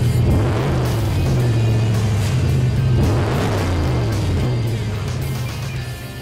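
Deep, steady exhaust rumble from a RAM 1500 Night Edition pickup fitted with black tailpipes and active exhaust flaps, loud and close, swelling in two surges before easing off slightly toward the end.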